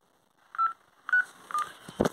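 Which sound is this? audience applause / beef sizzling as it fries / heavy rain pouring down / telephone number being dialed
telephone number being dialed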